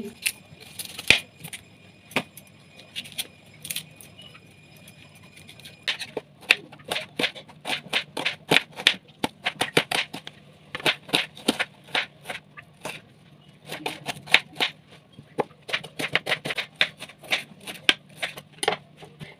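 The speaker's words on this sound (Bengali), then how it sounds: "একটা পেঁয়াজ কেটে নিচ্ছি।" A kitchen knife chops an onion on a board in quick, crisp, irregular taps, building into dense bursts of close cutting, with no talking.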